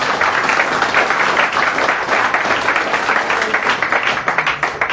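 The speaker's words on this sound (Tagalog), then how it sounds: "Pumalakpak nga yung mga natutuwa" A church congregation claps together during a Sunday service, a dense, loud burst of applause that holds steady for several seconds.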